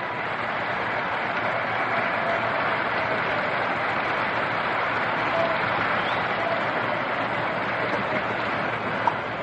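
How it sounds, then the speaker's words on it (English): Stadium crowd at the 1955 World Series Game 7 between the Brooklyn Dodgers and New York Yankees applauding Johnny Podres as he comes to bat, a broad distant roar of clapping and cheering heard steadily on an old radio broadcast. "Round of applause for Johnny Padres as he comes on."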